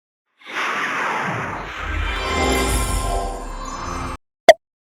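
The Crunchyroll brand sound logo opens with a swelling, airy whoosh that builds for about four seconds, then cuts to silence before a single short, bright plop-like ding.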